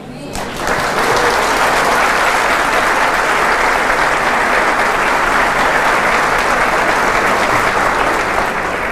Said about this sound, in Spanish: Jesucristo, para quien pide un aplauso.